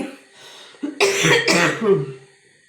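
Two harsh, loud coughs in quick succession, close up, after a brief bit of breathy voice.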